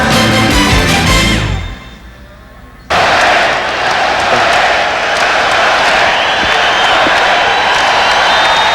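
Arena crowd roaring and cheering at Madison Square Garden before Game 1 of the 1993 NBA Eastern Conference Finals, Knicks against Bulls. A loud, sustained wash of crowd noise swells in after a short musical passage and a brief lull.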